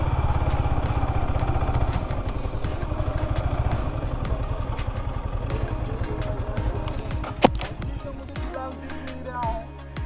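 An NS motorcycle engine runs loud and close on a misty hill road, revving with a rough, rapid pulse before settling toward a lower idle near the end.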